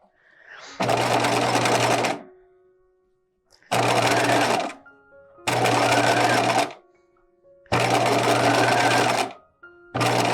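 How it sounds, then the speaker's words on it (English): A sewing machine stitches down the center of elastic on a garment bodice, running in four loud, close bursts of about two seconds each with short pauses between. "So I'm kind of stitching down the center of this elastic."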